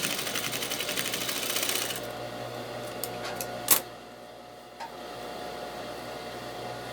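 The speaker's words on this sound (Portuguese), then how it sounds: "a gente vai passar uma costurinha aqui, ó. Um pezinho de máquina." A sewing machine runs steadily while stitching pockets onto a garment, a close, continuous whir for about two seconds that stops, followed by a few light clicks and handling noises against a quiet room hum.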